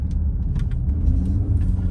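An Audi RSQ3 SUV with a five-cylinder engine idles and creeps through a tight turning circle, its low engine rumble steady and close with no voices.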